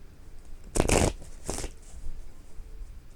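Two brisk riffles of a tarot deck being shuffled, close up, the first longer and louder, with quiet room tone after.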